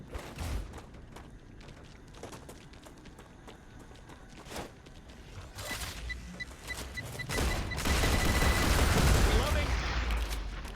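Gunfire in a factory-building video game, with scattered sharp shots early and a louder dense burst of rapid fire toward the end over steady background game noise.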